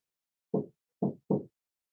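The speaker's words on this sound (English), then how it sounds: "Somebody's knocking." Three firm knocks strike a door, one alone and then two quick ones, close and clear against silence.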